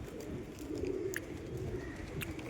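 Pigeons at a loft coo softly and steadily throughout, a low continuous murmur close by, with a few faint sharper chirps or clicks mixed in.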